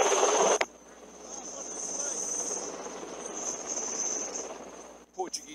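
Indian naval helicopter during a winch rescue, a steady rotor and turbine drone with a high whine and wind buffeting, preceded by a brief loud burst and ending with abrupt cuts.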